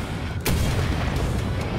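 Gunfire aimed at the player in Wolfenstein: The New Order, a heavy booming shot followed by rumbling echo and fainter distant reports.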